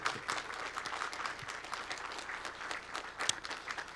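An audience at an opening ceremony applauds, a faint, distant patter of clapping that holds steady with scattered sharper claps.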